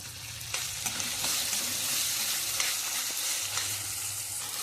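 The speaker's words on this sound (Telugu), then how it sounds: "టమాటా వేసి ఇవి కూడా బాగా మగ్గనిద్దాం." Tomatoes frying with ginger-garlic paste in a pan for a taro root curry give off a steady, close sizzle with occasional soft stirring clicks, and no voices.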